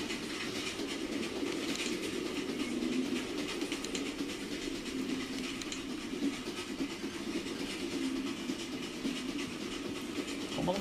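A moving train in the game The Final Station rumbles steadily with continuous hiss and faint clickety-clack, a dense unbroken drone at moderate level with no voices.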